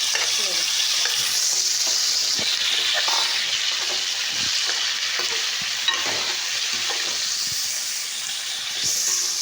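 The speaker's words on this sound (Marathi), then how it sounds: "तेल आपलं छान गरम झालेलं आहे. आपण त्याच्यामध्ये आता मटण घालून घेऊया." Pieces of mutton fry in hot oil, giving a loud, dense, hissing sizzle that runs steadily from start to finish, close by, with occasional soft stirring knocks.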